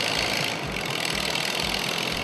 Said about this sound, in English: He revs and lets the clutch out, but the tires are losing traction.